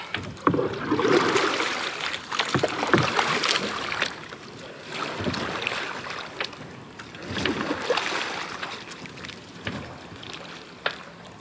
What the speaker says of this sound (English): I'm off to take this dinghy back and come back in my little dinghy